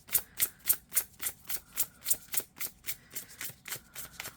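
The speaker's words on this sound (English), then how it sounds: "I'm going to pull some cards from the Intuit Oracle" Oracle cards shuffle in quick, even riffles, about four crisp flutters per second, close and moderately soft, with no voices.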